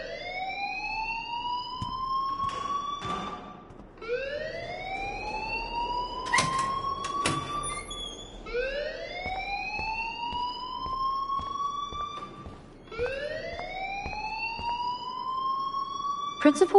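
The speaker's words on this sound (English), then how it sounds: "please turn off that alarm since that's your job." A rising and falling electronic alarm wails in a school in the video game Life Is Strange, repeating in steady sweeping cycles about every four seconds, loud and continuous.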